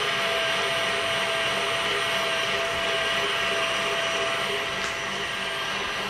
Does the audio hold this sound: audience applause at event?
no